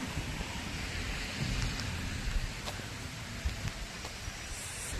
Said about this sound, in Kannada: ಬಟ್ ಮಳೆ ಬರ್ತಿದೆ